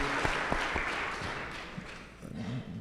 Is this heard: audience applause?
yes